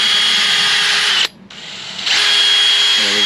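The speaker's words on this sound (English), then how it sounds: "So right now he's drilling a hole" Power drill boring a hole in a car body panel, a loud close whine that cuts out briefly and then resumes steadily, ending with a short ratcheting burst.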